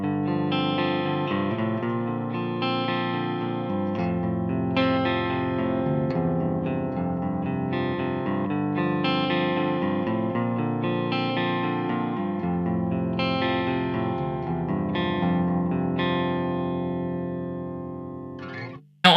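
Electric guitar played through a Zuta GBG 120 amp on channel 1 with the neck pickup, bass cut and treble boosted, a clean sustained tone of strummed chords and melodic notes ringing steadily and close, with no talk.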